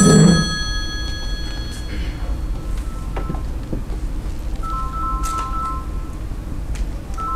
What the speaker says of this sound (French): Téléphone! J'ai entendu.